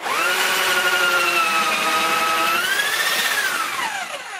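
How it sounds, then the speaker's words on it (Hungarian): A drill bores slowly through a wall without hammer action, giving one loud, continuous whining drone whose pitch holds steady, then rises briefly and sags toward the end as the bit binds. "épp hogy már befeszült fúró, és átértem a másik oldalra"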